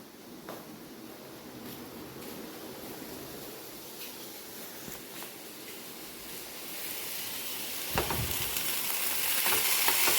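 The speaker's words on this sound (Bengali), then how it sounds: "আলু ভাজাটা দেখি, ও পুড়ে গেলে ঝামেলা আছে।" Potatoes frying in a home kitchen pan make a steady, close sizzle and crackle that grows louder toward the end, with a few sharp pops and a brief stirring clatter.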